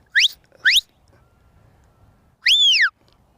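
Three shrill shepherd's whistle commands to a sheepdog, two quick rising chirps followed by a longer arched whistle, sharp and fairly close against a quiet outdoor background.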